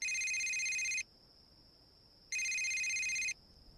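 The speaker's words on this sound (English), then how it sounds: "Suddenly, Tim's cell phone rings." A cell phone rings in two loud, steady electronic bursts, each about a second long, separated by a pause with a faint tone in between, and no voices over it.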